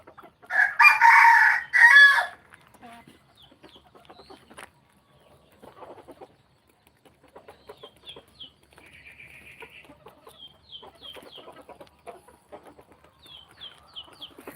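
A rooster crows loudly and close at the start during feeding time, then hens cluck softly and intermittently with faint chirps in the background.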